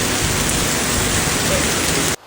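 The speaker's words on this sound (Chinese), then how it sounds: "突然下起了大雨" A heavy rainstorm pours down in Yongnian, Handan, Hebei, a loud, dense, continuous roar of falling rain that stops abruptly at the end.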